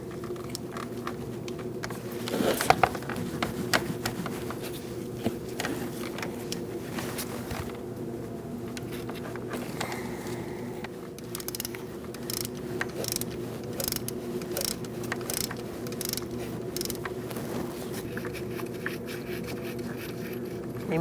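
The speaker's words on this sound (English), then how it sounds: "Using an E10 inverted socket, we're going to take out the bolt for this" A ratchet turning an E10 inverted socket on the idler pulley bolt of a 2008-2014 Mercedes-Benz C300 3.0L V6, giving faint, quick clicking strokes in short bursts against quiet workshop background noise.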